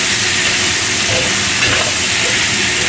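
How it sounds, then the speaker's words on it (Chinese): Chicken stir-fried with shallots and ginger in a wok, a loud, steady, close sizzle and hiss with faint scraping throughout. "炒一炒佢"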